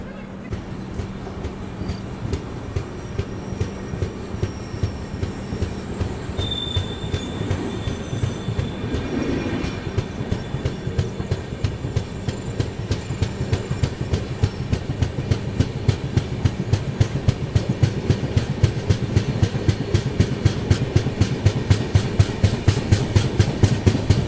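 A long-delayed Hubballi–Chennai superfast express (UBL MAS SF 20680) rolls past at night, its wheels beating a loud, quickening clickety-clack with occasional squeals, growing steadily louder and denser over the whole stretch.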